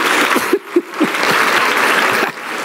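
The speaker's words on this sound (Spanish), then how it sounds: "démosle un aplauso al actor" An audience applauds an actor at a church gathering with continuous clapping, while a few low, voice-like sounds punctuate it near the start.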